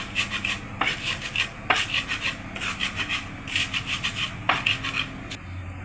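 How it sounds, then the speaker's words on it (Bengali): Peanuts and dried chili with salt crushed on a flat grinding stone in a village kitchen, the stone rubbing and scraping in rhythmic back-and-forth passes, close and steady with occasional harder knocks. "এখন হচ্ছে আমি এগুলো আগে বেটে নেব।"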